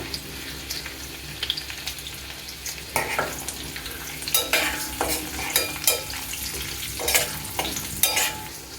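Chana dal with crushed garlic cloves and a pinch of turmeric fries in a pan, a close, steady sizzle broken by repeated bursts of stirring and scraping.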